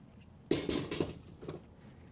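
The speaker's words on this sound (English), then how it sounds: "I'm going to cut this one off right here." Scissors snip through a pipe cleaner at a craft table, a few short crisp cuts close up with no one talking.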